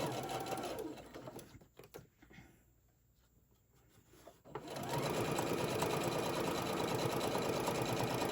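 Sewing machine back stitching the body seam of a stuffed bear, a close, steady mechanical whir that stops briefly in the middle and then runs on continuously.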